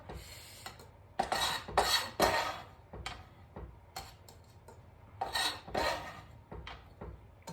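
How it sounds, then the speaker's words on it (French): Utensils clink and scrape against a bowl while a finely chopped ingredient is folded into guacamole, with irregular close clatters and quieter rubbing strokes between them. "Je vais l'incorporer dans le guacamole."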